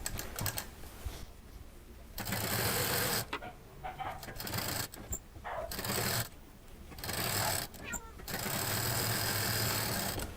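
A sewing machine stitches a patchwork sling bag in loud, dense bursts of whirring needle rattle, stopping and restarting several times with quieter pauses between runs.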